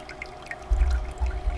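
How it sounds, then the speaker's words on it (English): A small stream of water, about a cup's worth, pours vertically into a gold recovery trap that holds dirt. It begins as a faint trickle, then a steady low rushing flow starts partway through and continues close up. "about a cup of water vertically flowing into the trap, supporting the dirt"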